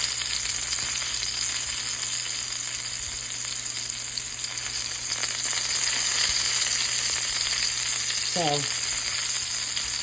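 Garlic frying in a pan gives a steady, dense sizzle throughout, with a brief utensil scrape near the end and a single short spoken word.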